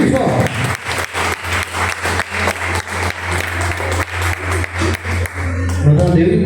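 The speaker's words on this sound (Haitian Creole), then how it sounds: "Un applaudissement plus fort." Children in a Christian assembly in Haiti clap in loud, rhythmic bursts of applause repeated at a steady beat, while an adult voice urges them on over the clapping.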